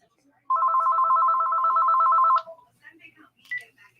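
An outgoing phone call rings once with a single electronic ringback tone of about two seconds, loud and close, followed by brief faint sounds.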